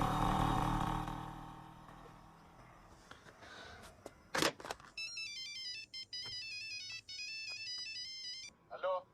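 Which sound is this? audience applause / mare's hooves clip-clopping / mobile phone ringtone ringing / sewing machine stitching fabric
mobile phone ringtone ringing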